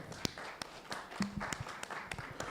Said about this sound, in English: A round of applause for Peter.